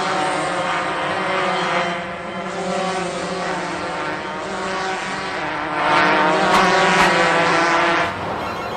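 Cartoon karts racing around a track, buzzing engine whines that rise and fall in pitch as they pass, layered and fairly loud, with a brief swell near the end.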